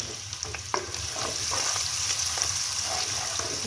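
Two medium chopped onions frying in hot oil for beef dum qeema, a dense, steady sizzle with occasional soft clicks of a spoon against the pan.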